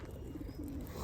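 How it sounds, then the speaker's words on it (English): Pigeons cooing in a busy outdoor spot in London, low soft coos blending into a steady background murmur of birds, with no talk. "Suddenly we have so many birds."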